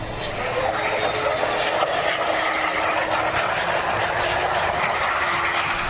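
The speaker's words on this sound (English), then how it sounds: "This is the moment of contact on the runway, shot from inside the cabin." Inside an airliner cabin as it lands on a runway, a loud continuous rumbling roar with rattling vibration holds steady throughout, with no distinct voices.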